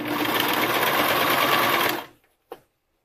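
A sewing machine runs a stretch stitch over a bra seam, a close, steady whirring hum for about two seconds that stops abruptly, followed by a single short mechanical click.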